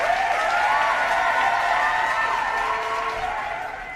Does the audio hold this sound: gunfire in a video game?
no